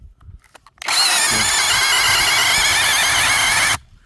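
A saw cutting through a young pear tree: a loud, continuous high-pitched whine that starts abruptly, holds steady for about three seconds, then cuts off, with faint outdoor rustling before and after.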